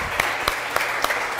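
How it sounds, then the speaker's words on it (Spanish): Audience applause for a contestant on a live show, a short wash of crowd clapping with a few sharper claps standing out. "un aplauso para este compadre que se vino a aventar acá los shots"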